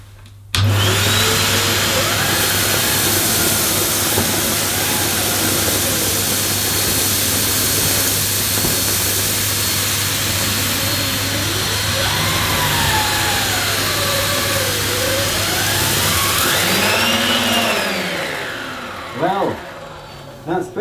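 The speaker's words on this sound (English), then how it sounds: "let's pass the aero brush forward and back through the middle of this dirt." Numatic Henry Extra vacuum cleaner running steadily with its aero brush pushed forward and back through dirt, a loud continuous motor drone that dips near the end as the suction shifts, with no talk over it.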